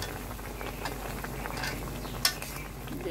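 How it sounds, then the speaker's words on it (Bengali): Cumin paste and spices being stirred in a cooking pan for a fish curry with Malabar spinach, giving a steady, soft scraping and faint sizzle throughout, with one brief sharp metallic clink near the end. "একটু মিশিয়ে নাড়াচাড়া করে নিব ভালোভাবে, যাতে মশলাটা এক জায়গায় দলা পেকে না থাকে"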